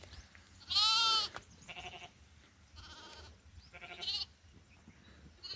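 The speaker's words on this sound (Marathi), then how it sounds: "बकरं पण असे थांबलेत." Goats bleat at a shepherd's open-air camp after rain, several separate calls with one loud, close bleat followed by softer, more distant ones, and no voices.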